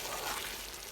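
Chicken pulao mixture in a pan being stirred over a medium-low flame, with a steady soft frying sizzle ending in a short, sharp scrape of the spoon.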